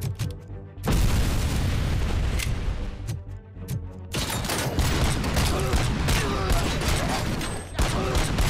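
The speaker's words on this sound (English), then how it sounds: "Grenade!" A grenade detonates in the video game Robocop: Rogue City, a loud booming blast followed by a dense roar of gunfire and crashing debris that keeps going at full loudness, with a brief dip just before the explosion.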